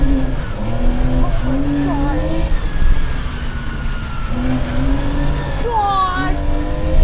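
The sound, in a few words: 1987 Porsche 911 Carrera driving on dirt road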